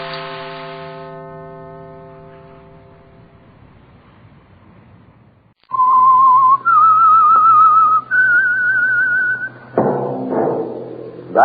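A loud, clear whistled melody of sliding, wavering notes rises sharply after a fading musical chord, continuing steadily before ending in a brief flourish.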